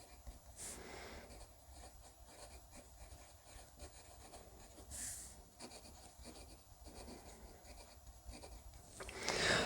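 A Hero fountain pen writes across cheap paper, giving a soft, steady scratching rub that goes on throughout and is close and quiet, with a couple of brief louder strokes and a firmer scrape at the end.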